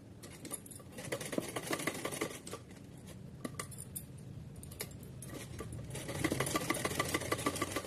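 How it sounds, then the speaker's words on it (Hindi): A sewing machine runs a straight stitch through fabric for a heavy deity outfit, a close, steady rapid whirring patter that pauses briefly midway and then resumes. "तो चलिए अब हम इस पर एक सीधी सिलाई लगाते हैं।"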